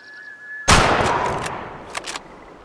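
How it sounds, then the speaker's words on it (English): A hunting rifle shot in the video game Way of the Hunter cracks out once after a quiet moment, loud and close, then trails into a long rolling echo with faint rustles afterward. "It's a nice clean shot."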